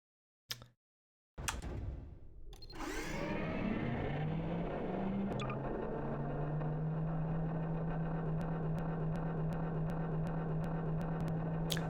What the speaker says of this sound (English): There's that source engine sound you know so much.